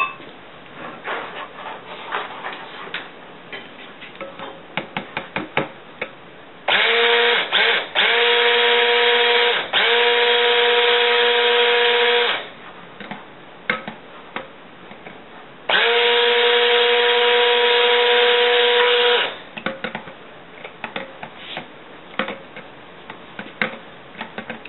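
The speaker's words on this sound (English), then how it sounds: "But I will give it a few whizzes with the stick blender." Two loud bursts of a stick blender whirring through beer and ginger soap mixture, each several seconds long, separated and surrounded by clinking and scraping against a container.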